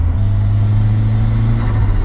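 A deep, loud turbocharged Ford Escort RS Turbo engine rumble with a screamer pipe, holding a steady throbbing tone up close, with no voices over it.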